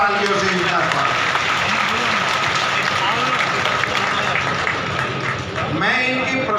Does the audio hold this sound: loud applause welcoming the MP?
yes